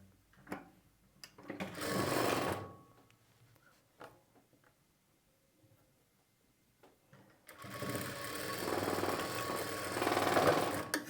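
A sewing machine stitching a plain blouse makes two close, rapid whirring runs, a short one and then a longer one, separated by a quiet pause with small handling clicks.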